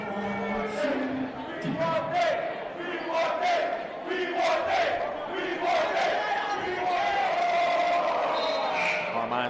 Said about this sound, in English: Newman crowd is chanting for somebody to get in the game.